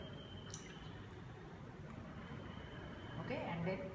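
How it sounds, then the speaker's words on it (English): Liquid squishing and dripping as an air bubble is removed from a water-filled burette in a school lab, faint wet sounds with a few gurgles near the end, with a person talking over them. "Removal of air bubble."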